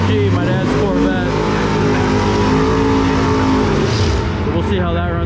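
Mid-9-second L88 Corvette on stock tires making a drag strip pass at an NMCA event, its loud engine roaring continuously with rising pitch through the gears, voices audible over it.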